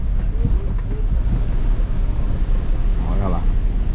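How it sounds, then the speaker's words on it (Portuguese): Strong wind buffeting the microphone over heavy sea surf at Praia Grande beach in Ubatuba, a constant loud roar with waves crashing nearby as rough water builds. "Ó, entrou um vento agora, pessoal."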